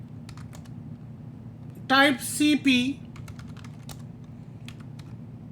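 Soft, scattered clicks from a computer keyboard are heard during a Linux training session, with a short spoken remark in the middle.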